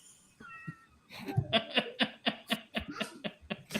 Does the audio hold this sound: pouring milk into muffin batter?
no